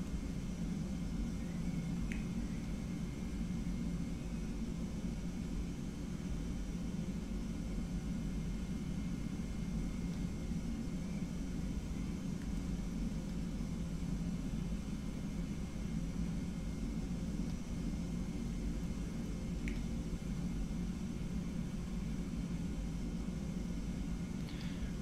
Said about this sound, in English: And we'll start the APU.